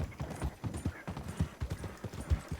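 A horse's hooves clip-clop in Red Dead Redemption 2, a quick, even rhythm of hoof strikes close by that continues throughout.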